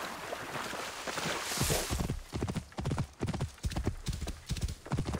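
A horse's hooves clip-clop in a quick, steady gait in the video game Assassin's Creed Origins, close and distinct, with faint ambient game sound behind.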